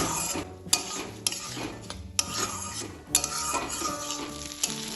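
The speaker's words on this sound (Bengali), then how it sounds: "চালটা এবার এর সাথে ভালোভাবে মিশিয়ে নিই।" Soaked aatap rice stirred into a frying pan, a close sizzle with scraping and clinking of a metal spatula against the pan in a few separate strokes, no voices.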